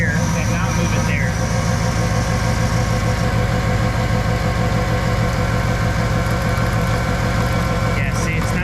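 A 5.7 Vortec V8 swapped into a Chevy S10 idles with a steady, close, even rumble through the whole stretch, with a few faint knocks and rattles over it.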